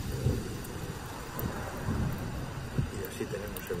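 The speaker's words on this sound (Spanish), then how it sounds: "fuerte tormenta y granizada en estos momentos sobre Santander" Heavy thunderstorm with hail over Santander in the morning, a low continuous rumble of thunder and dense rain or hail wash with a few louder thuds, fairly distant and even throughout.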